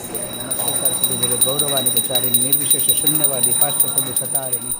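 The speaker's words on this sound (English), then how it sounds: "Sachi offers the food to Krishna with the ringing of a bell and the chanting of the mantra." A small bell rings continuously with a bright, steady shimmer during a food offering to Krishna, beneath a prominent voice chanting a mantra.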